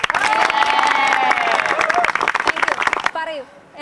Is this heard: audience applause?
yes